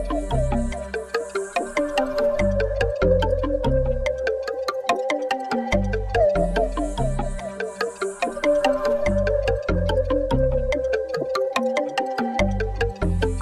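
Rendered music sample loop, pitched down and time-stretched to 144 BPM, plays alone: layered melodic and bass parts repeat in a steady loop, restarting about every six seconds at a constant loudness.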